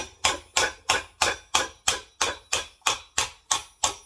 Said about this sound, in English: I could be more like a power hammer and hit in the same spot and move the piece underneath it too